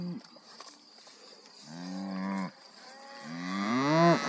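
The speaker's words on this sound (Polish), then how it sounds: "A tam wszystkie krowy łażą." Cattle on a farm moo repeatedly, with two or three long, drawn-out calls rising in loudness, the last one closest and strongest, over faint background noise.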